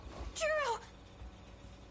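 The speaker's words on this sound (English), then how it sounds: "Literally listen to the cat." A cat in the video game 13 Sentinels lets out a single clear, fairly loud meow with a rising then falling pitch, followed by quiet background.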